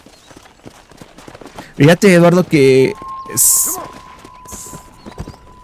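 In the Red Dead Redemption game on Nintendo Switch, a horse's hooves clip-clop in a soft, quick rhythm at low volume beneath louder talking that fills the middle of the moment.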